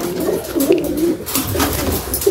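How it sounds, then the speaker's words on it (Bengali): A Saharanpuri pigeon coos nearby in soft, repeated throaty calls over a quiet background, with no speech. "নাপ্তাটা প্রথমে আমি ছেড়ে দেখাচ্ছি"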